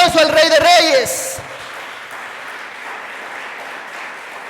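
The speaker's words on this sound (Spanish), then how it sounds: "Dale un fuerte aplauso al Rey de Reyes." After a loud spoken phrase, a church congregation breaks into applause that settles into a soft, steady, distant clapping wash.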